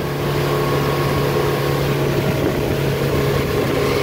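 The engine of a 2017 Robalo 22 center console boat runs steadily at cruise around 4,000 RPM, a constant loud drone with a low hum beneath rushing wind and water.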